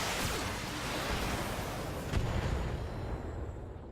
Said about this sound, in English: And then we fire all our weapons because we have 0 heat.